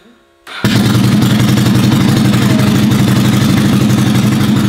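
A Ducati 900cc engine in a shifter kart fires up after a brief quiet moment and settles into a loud, close, rough rumbling run with rapid pulsing beats, holding steady to the end.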